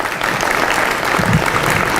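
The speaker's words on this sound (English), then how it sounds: "please, round of applause." Audience applause at a community meeting on reimagining policing in Denver, a steady, dense wash of clapping that fills the whole short stretch at even loudness.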